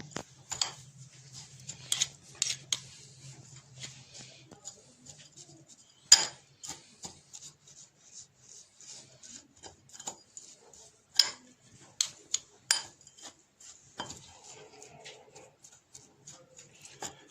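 A spoon mixes masala paste in a bowl with faint, scattered clinks and taps in an otherwise quiet room.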